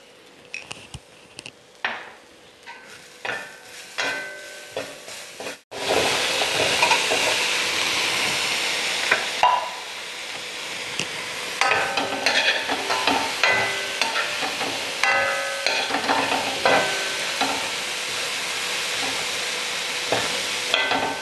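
Ginger garlic paste fries loudly in a pan with a constant close sizzle, while a spoon stirs and scrapes against the metal in repeated clanks, following a quieter stretch of tapping before the paste hits the oil.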